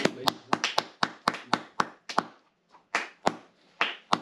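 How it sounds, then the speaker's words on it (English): Sharp hand claps ring out alone in a loose, uneven series of about a dozen close, loud smacks with a short pause partway through. "I've got to clap him now"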